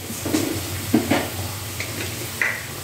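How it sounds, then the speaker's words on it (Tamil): Tomatoes and onions sautéing in a pan with salt and turmeric for a Tamil kuzhambu, a soft steady sizzle with a few stirring scrapes and light clinks of a utensil, close and without talk. "தக்காளி வெங்காயம் சேர்ந்து நல்லா வதங்கணும்"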